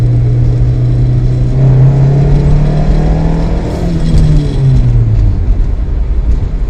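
The Lightnin Bug car's engine drones loudly and steadily while cruising, its pitch rising slightly under acceleration and then easing off, with road and wind noise filling in around it.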